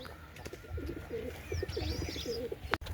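A pigeon cooing nearby in a rooftop pigeon setup, a few soft, throaty coos in a rolling rhythm over quiet background noise, ending with a sharp click.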